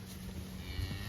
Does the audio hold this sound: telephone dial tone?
no